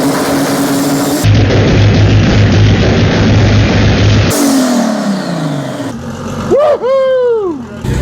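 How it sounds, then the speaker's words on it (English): Two cars doing a burnout inside a double garage roar at full throttle, the engines holding a loud, harsh drone, then winding down before a final sharp, rising and falling rev near the end. "Tonight we did a burnout with the 2 cars we did."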